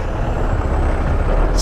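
A loaded truck on a mountain road lets out a loud, sustained hiss of air brakes over a low engine rumble, close by and continuous.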